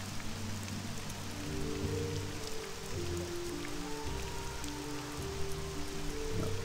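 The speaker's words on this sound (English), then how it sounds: "And unfortunately it's raining." Steady rain falls in the Morrowind video game world, a dense continuous patter with low rumbling ambience underneath and no talking.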